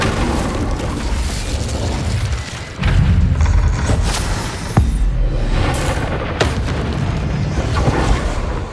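Hogwarts Legacy fire spell Incendio cast in combat, heavy booming bursts and thuds over a dense roaring game soundscape, loud and close, with a few sharp impacts.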